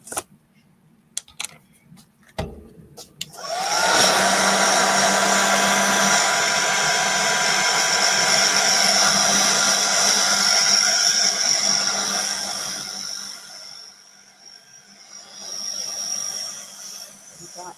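A hair dryer aimed at the edge of a piece during a craft project switches on and blows a steady, loud airy hiss for about ten seconds before easing off, with a brief burst again near the end.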